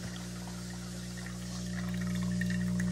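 A Miele coffee maker fills a cup with a steady pouring stream over a constant low machine hum, growing slightly louder toward the end.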